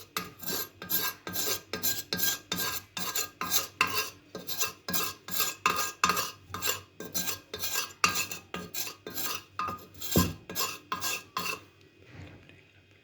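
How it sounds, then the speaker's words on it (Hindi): A spoon spreads whipped yogurt as a coating inside a clay pot, producing a steady series of rhythmic scraping strokes, close and fairly loud, ending in quiet. "चम्मच की मदद से इस तरह हम कोटिंग करेंगे।"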